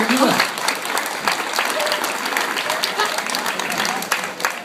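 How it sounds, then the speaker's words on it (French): Audience applause at a French stage hypnosis show, a dense, steady wash of clapping lasting throughout with some voices mixed in. "Messieurs, dames, on l'applaudit"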